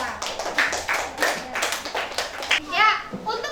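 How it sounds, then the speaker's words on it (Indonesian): Children in a classroom applaud group 2 with a short burst of scattered clapping, mixed with kids' chatter and a teacher's voice. "Kasih tepuk tangan untuk kelompok 2"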